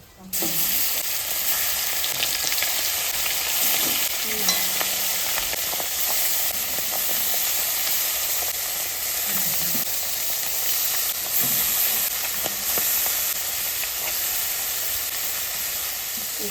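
Fish sizzles loudly and steadily in hot oil tempered with dried red chilli, bay leaf and black cumin, a continuous close frying hiss with occasional spatter pops and no talk.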